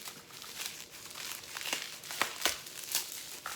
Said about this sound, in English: So everything's well wrapped in bubble wrap.